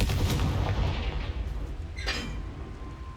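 Confringo fire-blast spell in Hogwarts Legacy, with booming, artillery-like blasts at the start and a sharp crackling burst a moment later, loud and close.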